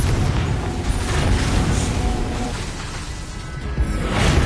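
The Confringo blasting spell in Hogwarts Legacy sets off a loud, rumbling explosion, with a heavy boom and crackling debris bursts that keep going across the whole stretch and swell again near the end.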